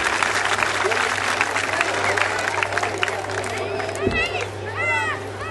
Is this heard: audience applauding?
yes